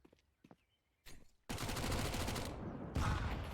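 Gunfire in Counter-Strike: Global Offensive during a competitive match: a few faint clicks and taps, then a loud burst of rapid shots and explosive noise that holds dense and heavy to the end.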